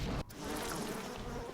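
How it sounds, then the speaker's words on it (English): Attacking bees in the BioShock video game, a dense, continuous insect buzz that fills the clip, close and loud, briefly cut by a sharp dip near the start. "Bees!"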